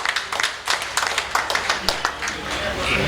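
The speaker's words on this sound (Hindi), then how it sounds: "मैं सबसे कहूंगा तालियां बजा के इनका स्वागत अमित शर्मा टोनी जी का" An audience claps to welcome a guest on stage at a traders' honour ceremony and poetry gathering in Hapur, with a scattered, uneven patter of hands mixed with someone talking over it.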